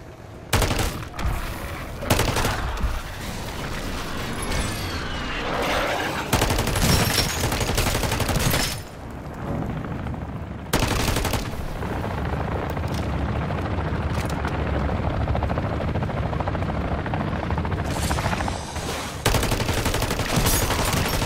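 A sentry gun fires in Modern Warfare III Zombies, loud sustained automatic bursts mixed with booming explosions and heavy game noise, pausing briefly a few times before resuming.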